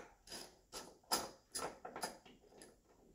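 A tight door striker bolt is being loosened on a 1970s–1980s Ford car, heard as a series of short ratchet clicks and creaks in uneven bursts, close but fairly quiet.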